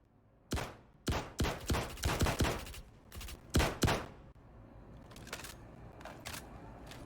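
Gunshots in the space game Star Citizen, a string of sharp, loud cracks in quick succession, then a few fainter shots spaced out afterward.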